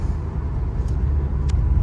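A Citroen Visa GTi engine drones steadily from inside the car while driving, a continuous low rumble with no talk.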